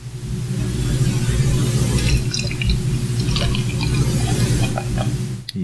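Funky Buddha Nib Smuggler beer pours steadily into a glass, a continuous liquid gush and fizz with a low rumble, running alone for several seconds before it stops abruptly.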